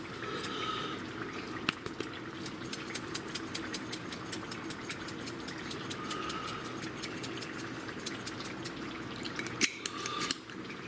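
Dry thyme and dry rosemary are stirred together in a bowl, a steady stream of close, regular scraping and tapping strokes of a utensil against the dish, running alone with a louder knock near the end.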